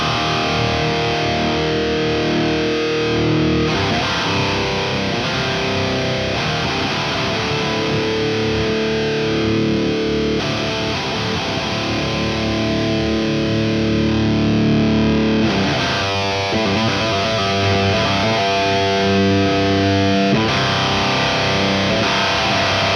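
Heavily distorted electric guitar in drop C tuning runs through an Omega Ampworks Granophyre amp sim with added low-end depth, playing a loud, dense riff that carries on steadily without any talking.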